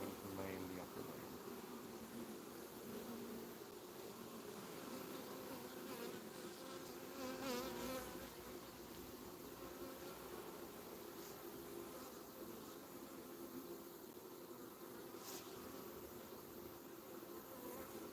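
Honeybees drone continuously around an open beehive under inspection, a dense, steady buzz close to the microphone with individual bees swelling louder as they pass nearby.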